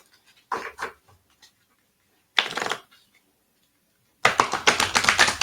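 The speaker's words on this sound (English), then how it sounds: "So I just give these cards a big shuffle." Large oracle cards being shuffled by hand in three distinct bursts, each a dense riffling rush of papery flutter, separated by silence, with the final burst the longest and loudest, close up and with no voices.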